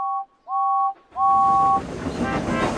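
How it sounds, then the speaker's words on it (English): A steam engine whistle gives two short two-tone toots and then a longer sustained blast, followed by a rushing, hissing rumble as the engine comes near. "Then Thomas heard a whistle."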